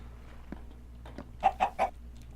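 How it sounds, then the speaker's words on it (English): Three quick, close clucks from a Minecraft chicken, with a few softer scattered sounds before them, set against a quiet background. "chicken laid an egg."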